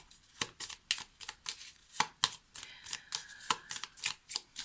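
A deck of small Lenormand cards is shuffled by hand, giving close, crisp riffling and tapping bursts in a fairly regular rhythm, with no one speaking.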